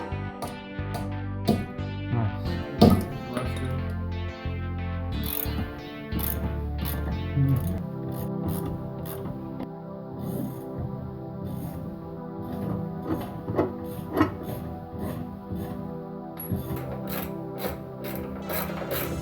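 A ratchet works stuck bolts loose on a 1987 Acura Integra during teardown, with a steady run of clicking pawl strokes and metallic grinding close by, unbroken throughout.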